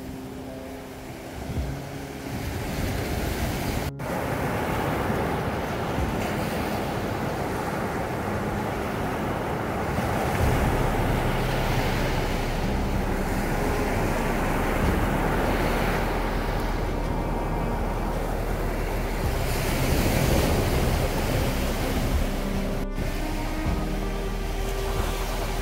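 Sea waves break on a Baltic beach at Świnoujście in September, a broad, continuous roar of surf and wind that swells and eases in slow surges.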